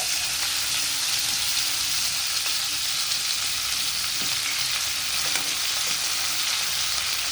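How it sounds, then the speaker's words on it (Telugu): Onion pieces frying in a pan for chilli chicken make a loud, dense, continuous sizzle that stays even throughout, with a few faint stirring knocks beneath it. "ఇప్పుడు మనం తీసుకెట్టుకున్న ఆనియన్ ముక్కలు ఇవన్నీ కూడా ఇందులో వేస్తున్నాం"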